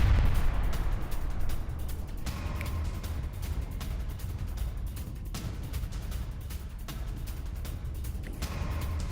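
Missile strikes on a nuclear plant in Iran during the Iran–Israel conflict, heard as a sustained low rumbling roar with deep booms and bursts, loud and continuous throughout with no voices.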